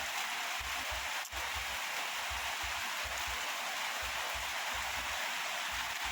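Steady rain falls in a dense, even hiss over trees and farmland, with a faint low rhythmic thumping beneath it.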